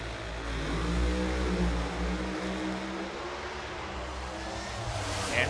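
An alcohol-burning Hemi engine in a Top Alcohol Funny Car roars during drag-race qualifying, a sustained low, rumbling drone heard from some distance that swells slightly and holds steady, with no talking.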